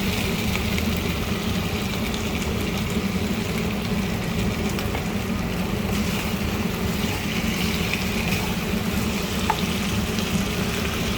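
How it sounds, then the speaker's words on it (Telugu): Oil frying with tomato in a pan for chicken fry, a dense steady crackling sizzle that continues evenly up close. "ఇప్పుడు వేస్తున్నానండి 1 స్పూన్ ఆయిల్."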